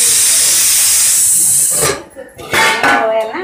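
Steam hisses loudly from a pressure cooker of chickpeas after its whistle, a steady broad rush that cuts off abruptly, followed by a few clattering pot and lid sounds and softer bursts of hiss.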